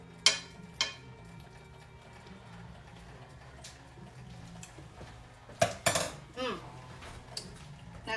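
A metal spoon clinks against a pan of gravy during a taste test, giving a few sharp, separate knocks and scrapes over a quiet kitchen background, with a cluster of clatters near the middle.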